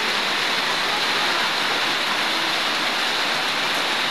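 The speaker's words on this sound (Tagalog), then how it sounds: "parang normal na ulan lang talaga" Steady rain pours down in a village during the year's first typhoon, a dense, even hiss that holds at full strength the whole time with no talk.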